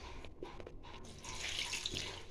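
Water runs from a tap into maida flour being mixed for dough, a soft gush that swells in the second half, close and moderately quiet with no speech.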